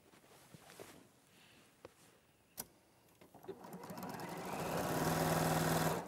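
After quiet handling clicks, a sewing machine starts up and runs steadily with a whirring motor, stitching rows of fabric squares for a wall hanging, building in loudness toward the end.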